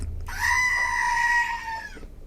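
A single drawn-out goat bleat, loud and close, harmonically rich with a wavering, nasal tone lasting over a second and a half, alone over low background rumble.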